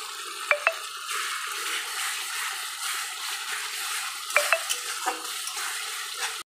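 Spices with Kashmiri chilli powder frying in a pan for egg curry, a soft steady sizzle broken by a few sharp utensil clinks and stirring scrapes, no talking.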